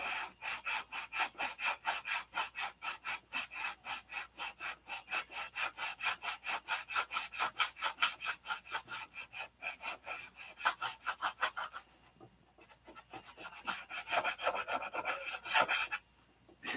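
Steady back-and-forth strokes of a hand saw or rasp trimming the end of a wooden workpiece, rapid rhythmic rasping that runs continuously, pauses briefly, then resumes, close and fairly loud.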